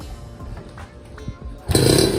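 A Kawasaki ZX150 motorcycle engine catches after some low cranking and scraping, then bursts into a loud, rough running idle in the final half second.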